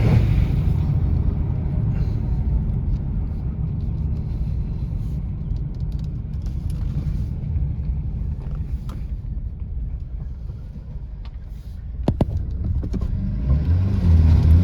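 A 2021 Mercedes-Benz AMG CLA35 4matic on a test drive, with a steady low engine and road rumble from inside the cabin and a slight rise in engine note near the end.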